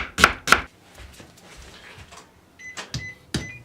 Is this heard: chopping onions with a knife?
yes